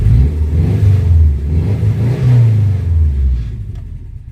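A 1998 Subaru Forester S engine, just back after a timing repair, idles with a loud low rumble and rises in two throaty revs before settling, close up and with no voices.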